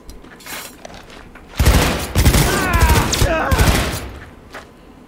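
Bursts of rapid gunfire from the video game Cyberpunk 2077 rattle loudly in clustered volleys over a few seconds, with mechanical clanks and a voice in the background.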